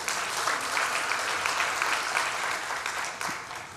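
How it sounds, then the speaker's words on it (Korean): A church congregation claps together during a Korean sermon service, a dense, steady wash of applause filling the room for a few seconds before tapering slightly at the end. "박수하겠습니다"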